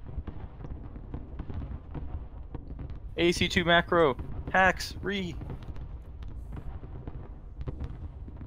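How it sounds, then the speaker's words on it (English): Crackling in-game fireworks fill a competitive tournament strategy-game match, a steady dense crackle with popping bursts running throughout while a commentator's voice cuts in briefly partway through. "Let's enjoy the fireworks here."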